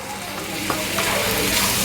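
Grated coconut is stirred into a hot syrup of jaggery and ghee for a modak filling, giving a short, steady sizzle with soft scraping stirs close by.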